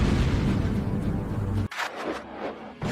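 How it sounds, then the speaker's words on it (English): Asteroid explosion sound effect: a deep, dense rumbling roar that cuts off abruptly into scattered crackling bursts and a thinner, fading rumble. "An explosion of supersonic waves, interplanetary heat, dust, fumes."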